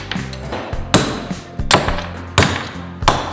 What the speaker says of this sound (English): now we can take our punch and our hammer and just hammer away